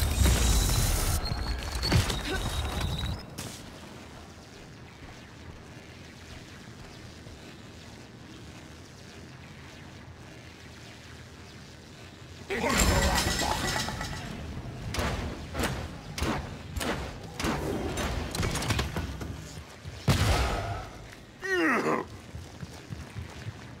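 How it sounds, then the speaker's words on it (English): Weapon fire in the shooter game Paladins, playing as Torvald: a rapid cluster of sharp bursts in the last ten seconds after a quiet spell, loud and close over a windy, churning background. "Everyone's just firing on me!"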